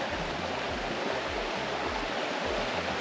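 The River Wye flowing steadily in Chee Dale, Peak District, a dense constant wash of rushing water close by with no voices.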